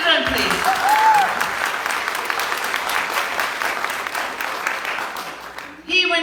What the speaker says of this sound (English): One clap to the children, please.